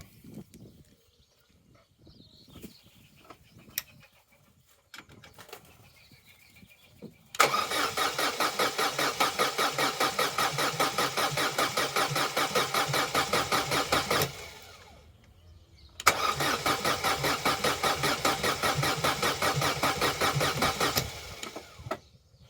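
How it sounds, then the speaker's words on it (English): A Vauxhall Corsa B engine cranks over on the starter in two long bursts, a loud rapid rhythmic churning that runs about seven seconds, pauses, then resumes for about five more, after quiet handling sounds. "I'd say that's a good crank over. Maybe a little sluggish, but I'd say that's cranking at good speed."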